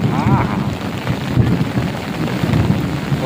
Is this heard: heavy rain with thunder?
yes